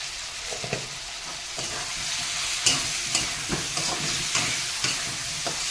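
Spices frying with potato and tomato in a hot pan for a jackfruit kofta curry, a steady sizzle with occasional stirring scrapes and clinks, close and continuous.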